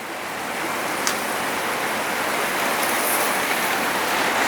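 Steady rain hisses evenly throughout, a dense, soft wash of noise with no voices.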